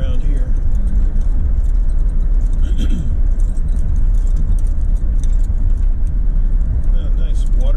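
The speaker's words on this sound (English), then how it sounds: "Oh, nice water truck watering the yard." A water truck drives past while watering a yard, its engine a steady low rumble throughout, with faint rattling on top and no clear break in the sound.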